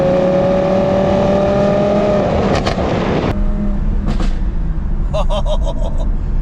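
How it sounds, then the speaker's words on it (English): Audi R8 V10+ with a Valvetronic exhaust and no rear bumper, idling loud and close with a deep steady drone, then sharp pops and crackles bursting out in quick clusters toward the end. "Let's see how this Valvetronic exhaust sounds."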